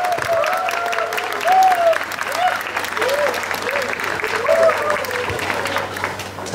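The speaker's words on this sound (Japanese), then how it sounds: "大きな拍手でお迎えください。" Audience at an outdoor winter food festival venue in Niigata applauds to welcome performers on stage, steady crowd clapping with a few high whistles or cheers cutting through.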